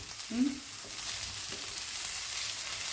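Chopped ridge gourd stir-fry cooking in a pan on high flame, a soft steady sizzle heard quietly and close, with a brief faint murmur near the start.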